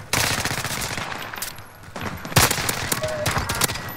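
Rapid bursts of gunfire with sharper single pistol shots in a first-person shooter game, loud and near, cracking in quick irregular clusters over about four seconds with no talk.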